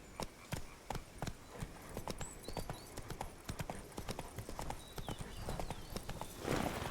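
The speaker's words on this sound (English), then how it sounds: "Run, Roach." Roach, the horse in The Witcher 3, gallops in a fast, even clip-clop of hooves with a faint breath, steady and close, a brief rumble at the end.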